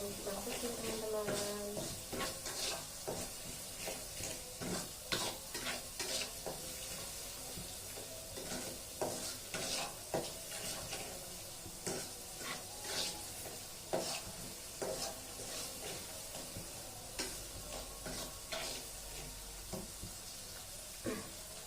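Seasoning fries in a wok for fried rice, a steady hissing sizzle with frequent rhythmic scraping stirs, heard close, with a voice talking intermittently over it.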